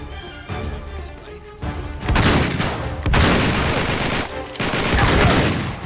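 Shotgun gunfire in the Uncharted 3 video game, a French chateau level: dense, loud bursts of blasts and crashing impacts in several clusters over a few seconds, with game sounds in between.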